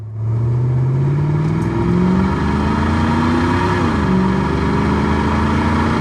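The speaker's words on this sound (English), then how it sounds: "just put it in drive and just go cruising" A 1993 Ford Mustang GT with a 5.0 engine and automatic transmission cruises along, its V8 droning steadily as revs rise through a shift and settle again, loud and close with road noise underneath.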